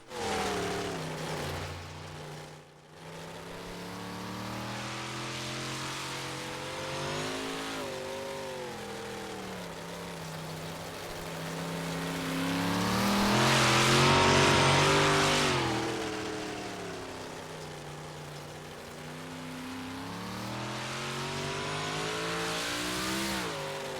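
Big block dirt race car engine in iRacing at Lernersville, revving steadily through a qualifying lap, pitch rising and falling as the car accelerates and backs off in the corners, loud and close, swelling mid-lap, with no talk.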